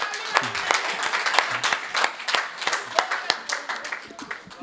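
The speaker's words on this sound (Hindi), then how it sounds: "तालियां भाई, तालियां।" Audience applause at a Hindi poetry gathering (kavi sammelan) in Maujpur, a steady wash of clapping with sharp individual claps standing out over several seconds, nearby and moderately loud, with a voice talking over it.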